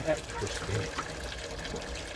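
Dirty water from allotment work pours into a dustbin, a soft continuous trickle and splash heard close but quiet, with faint background noise throughout.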